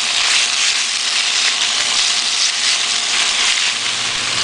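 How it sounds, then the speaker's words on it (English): Beef stir frying in hot oil in a pan for a beef with oyster sauce dish, a loud, steady, hissing sizzle that fills the whole stretch without pause. "Once the oil is hot, I'm going to add my beef. And I'm just going to stir fry it for about 2 to 3 minutes."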